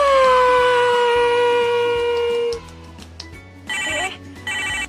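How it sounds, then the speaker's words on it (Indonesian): Melodic phone ringtone with sustained tonal notes over a steady backing, fading out partway and followed by short bursts of higher chiming tones, moderately loud and without speech. "Kak Rika tahu itu suara handphone"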